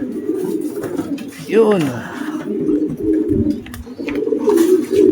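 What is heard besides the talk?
racing pigeons cooing as they arrive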